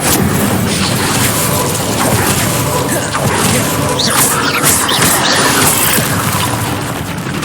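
Incendio fire spell cast in Hogwarts Legacy: a loud, dense roaring blast that fills the full 7 seconds with a steady rush and scattered crackles. No voices.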